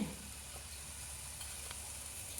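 Meal maker soya chunks fry in a pan, giving off a soft, steady sizzle with faint crackles and an occasional light scrape of stirring, all fairly quiet.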